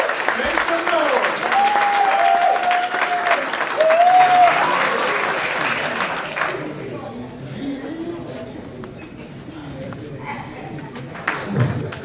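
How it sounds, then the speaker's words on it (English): Audience applause fills a banquet hall at an awards ceremony, loud and sustained with cheers rising over it, then fading to scattered clapping and murmurs near the end. "Let's give him a great big round of applause."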